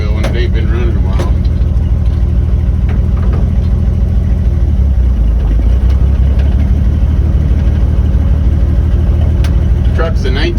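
A 1947 Chevy wrecker truck's engine runs on a short drive, a loud, steady low rumble throughout with a few sharper knocks and clunks, and some speech faintly mixed in.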